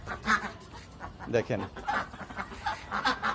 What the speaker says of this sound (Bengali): এই হচ্ছে হাঁসগুলো আবার খাবার চাচ্ছে